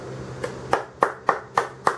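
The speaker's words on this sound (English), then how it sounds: "applause for Marco's Tools for his generous giveaways" A few hand claps ring out one after another in a loose, steady rhythm, close by and crisp, like a small clap rather than full applause.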